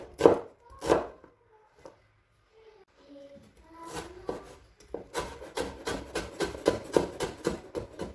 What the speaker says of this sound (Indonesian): Setelah itu aku cincang atau aku chop ya.